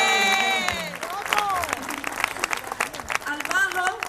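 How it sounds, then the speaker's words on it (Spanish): Applause and cheering from a concert audience at a tribute show, mixed with bright musical tones and some voices, swelling and dipping in uneven bursts. "Un aplauso muy grande para cada uno"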